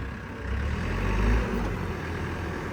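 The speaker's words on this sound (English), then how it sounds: "The engine sounds really good." A small loader's engine runs steadily close by, a rough, even mid-low drone that swells briefly as it picks up throttle and then settles back, with no voices.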